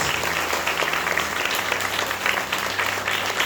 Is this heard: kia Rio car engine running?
no